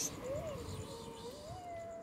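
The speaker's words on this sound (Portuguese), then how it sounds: "Ah, o gatinho, é?" A kitten found on the street gives a few thin, rising and falling meows, close and fairly clear, with quiet handling noise around it and no talk over the cries.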